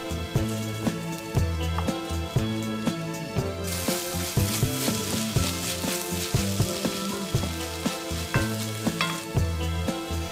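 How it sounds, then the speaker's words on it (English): Onions sweating in a pan over low heat give a steady soft sizzle that runs the whole time beneath rhythmic background music. "Replace on low heat and sweat until softened about 5 minutes"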